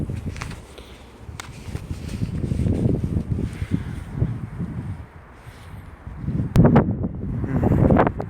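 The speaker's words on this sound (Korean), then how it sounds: "바람 분다" Steady wind buffeting a microphone outdoors, a low rumbling roar that swells and fades in gusts, with a few faint rustles and no talking.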